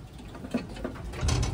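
A newly paired couple of racing pigeons of Biberman lineage, one checkered blue-bar, gives a few soft, low coos, close by and fairly quiet, with light shuffling around them and no talk.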